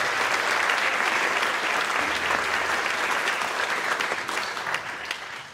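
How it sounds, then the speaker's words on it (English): Sustained applause from a concert audience at a high school spring concert, honouring the principals; dense, steady clapping fills the hall and tapers slightly toward the end. "Give them a round of applause"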